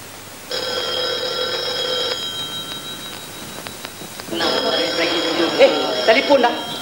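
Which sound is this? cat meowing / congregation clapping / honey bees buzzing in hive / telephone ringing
telephone ringing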